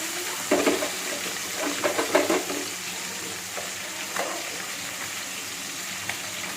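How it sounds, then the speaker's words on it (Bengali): Steady sizzling of fish frying in hot oil, with occasional louder crackles and spatters over a constant hiss. "ভালো করে লাল হয়ে ভাজা হয়ে গেলে তারপরে আরেক সাইড উল্টাতে হয়"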